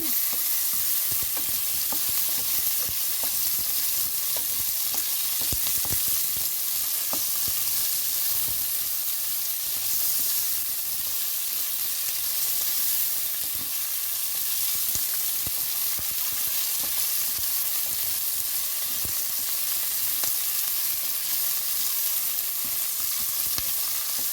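Small onions frying in a pan for gongura paneer biryani, a loud, dense, constant sizzle with rapid crackling that carries on unbroken for a long stretch, no voices.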